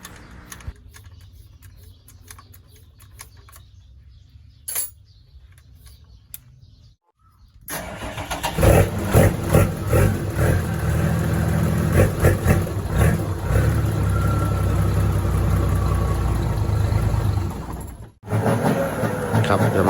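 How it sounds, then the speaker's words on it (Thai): A TF08 motorcycle engine with racing valve springs cranks and catches after a quiet stretch, then settles into a loud, steady idle with a rough, pulsing rumble, pausing briefly near the end. "สักพักก็จะได้ยินเสียงเครื่องแล้วนะครับ"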